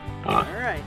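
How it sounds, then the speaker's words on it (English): A brief pig oink rises close and fairly loud over a short spoken phrase, lasting under a second. "Yeah, this is a pig."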